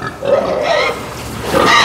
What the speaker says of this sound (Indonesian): Babi SGI Amerika dari Natalia Farm ya